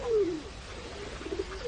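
Pigeons cooing in a park while being fed, a short, close coo that slides downward at the start, followed by softer cooing calls over light outdoor background noise.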